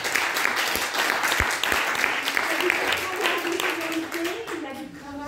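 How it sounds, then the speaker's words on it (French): Audience at a piano master class applauds a student, sustained even clapping filling the room, with a voice speaking over it. "vous pouvez l'applaudir"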